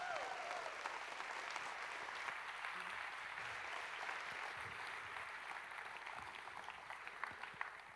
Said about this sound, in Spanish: un fuerte aplauso a Vicente Fernández